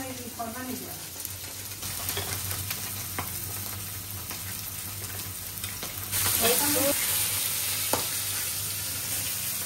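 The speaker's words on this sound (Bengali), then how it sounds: "মাছ ভাজা কমপ্লিট। এই যে এভাবে ভাজছি," Fish pieces fry in oil with a constant close hiss and crackle over a low steady hum, rising louder partway through, with faint voices in the background.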